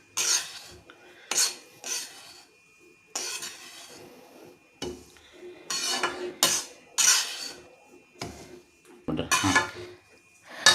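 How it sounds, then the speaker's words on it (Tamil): Semolina roasts in ghee in a pan as a spoon scrapes and stirs it in repeated short rasping strokes, fairly close and moderately quiet, with brief pauses between strokes. "ரவையை கொட்டி வறுத்துக்கிட்டு இருக்கேன்."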